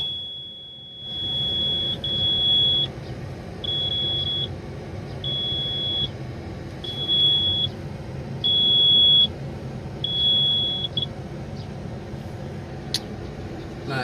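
The instrument panel buzzer of a Komatsu PC200-8 excavator sounds in a steady series of six evenly spaced high-pitched beeps over a low engine rumble, then stops.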